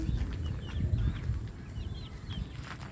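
Pet chickens being let out to roam cluck and chirp softly, with faint high calls over low rustling and movement nearby.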